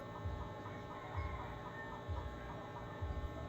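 Rhythmic hen clucking and cackling, a burst roughly every second, steady and moderately close over a low background hum.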